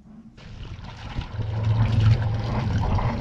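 Cooling water gushes and splashes steadily out of a Yanmar 3YM30 marine diesel engine being flushed with fresh water. The broadband watery rush swells and holds with a low engine rumble beneath, and no one talks.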